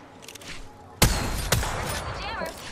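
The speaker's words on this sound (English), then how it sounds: "I'm getting shot, bro." Video game gunfire in a shootout, a couple of sharp loud shots cracking over a rapid patter of fire, with a player's voice talking underneath.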